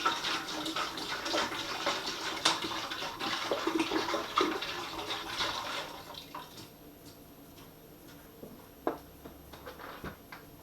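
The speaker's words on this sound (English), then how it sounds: "step 1 in this process, oh, it smells good, is just to pour the whole litre into a pan" A full litre of blackcurrant squash is poured into a pan, making a loud, splashing liquid stream for about six seconds, then quieter drips and small clinks as it tails off.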